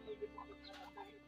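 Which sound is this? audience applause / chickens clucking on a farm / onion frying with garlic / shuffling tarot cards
chickens clucking on a farm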